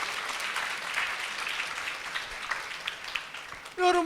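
An audience at a Bible seminar claps in a diffuse, moderately loud patter that holds steady throughout, and a brief voice cuts in at the very end.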